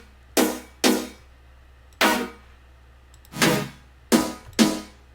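Metallic future bass chords made with the Sylenth synthesizer play as six short, bright, buzzy stabs in an uneven rhythm, loud and close with silence between them.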